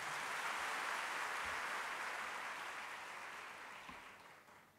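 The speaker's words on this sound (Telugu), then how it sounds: "ఈ అద్భుతమైన సాక్ష్యాలను బట్టి దేవుని మహింపరుస్తూ గట్టిగా చప్పట్లు కొడతారా?" Church congregation applauding together in a steady wash of clapping that holds for a few seconds, then gradually fades, fairly faint and distant, with no talk over it.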